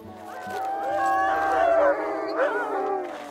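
Kennel dogs howling together in long wavering, overlapping tones, fairly close, with a voice speaking underneath partway through.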